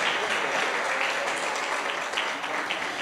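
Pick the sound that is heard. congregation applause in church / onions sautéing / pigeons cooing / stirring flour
congregation applause in church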